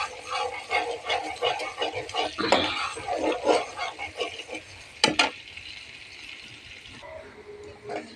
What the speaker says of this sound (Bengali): এখন আমি কচু কাঠিটাকে বাগার দিব